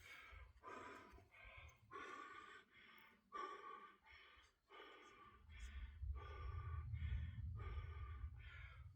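Heavy, rhythmic panting and gasping breaths after a back workout at the gym, close and loud, growing rougher and more labored toward the end.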